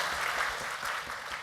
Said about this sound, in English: Yeah, you can clap for that woman.